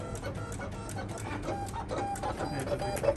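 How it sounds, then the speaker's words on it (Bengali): An automatic cutting machine cuts designs, a steady mechanical whir and rattle that runs without a break throughout, with faint higher tones now and then. "Automatic cutter machine."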